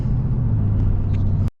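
A truck tows a flat trailer down the road, giving a steady, loud low rumble of engine and road noise that cuts off abruptly at the end.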